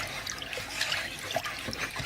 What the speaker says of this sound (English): I've poured 3 cups of water to my 1 cup of cornmeal, and I'm mixing it